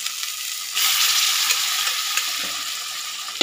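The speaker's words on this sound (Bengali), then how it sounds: "এবারে আমি এই যে ডালটা দেবো, ডাল সিদ্ধটা" Boiled arhar dal going into a pan of hot oil with fried ginger for Bengali dal chorchori, a sudden louder sizzle that then holds steady, with faint stirring sounds.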